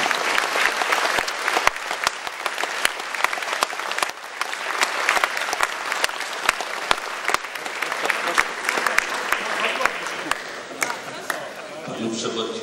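Sustained audience applause fills a ceremony hall, dense and steady clapping for about twelve seconds before tapering off near the end.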